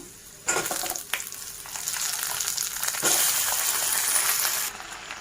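Tomatoes fry with peanut and chilli tempering in a pan for chutney, giving a continuous close sizzle broken by a few sharp clattering stirs. The sizzle swells louder partway through and then cuts off near the end.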